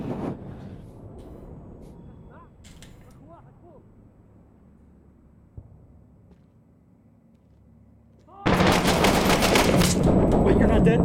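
Bursts of rapid automatic gunfire from the video game Six Days in Fallujah erupt loudly near the end, after a quieter stretch of low ambience. A single sharp shot sounds midway, and voices chatter faintly during the calmer part.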